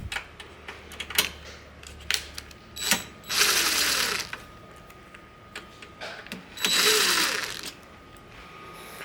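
Screws being backed out of the underside of an IKEA oven door, heard as close ratcheting clicks from a screwdriver with two longer grinding bursts, alone with no talk.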